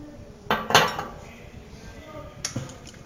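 A slime mixture of soap and salt is stirred in a bowl, giving a few sharp clinks of the utensil against the bowl at separate moments against a quiet room background.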